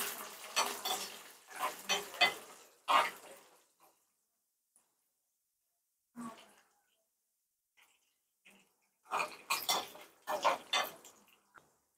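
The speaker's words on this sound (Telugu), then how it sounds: "జీలకర్ర, మినపప్పు, శనగపప్పు, ఆవాలు అన్నీ కూడా మనం వేసుకుందాం." Cumin, urad dal, chana dal and mustard seeds sizzle and crackle in hot oil as a tempering for curd rice, in uneven bursts of spattering separated by quiet pauses, probably while being stirred.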